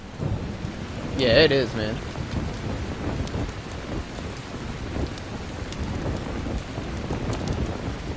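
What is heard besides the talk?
rain and thunder in the video game Dying Light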